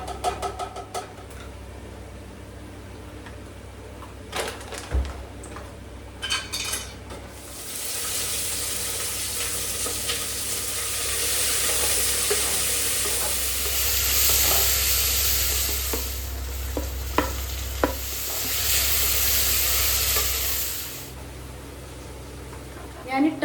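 Chicken biryani being stirred and fried in a pressure cooker, with a steady sizzle rising midway and lasting most of the clip, scraping stirs and occasional clinks on top, and a voice talking over parts of it.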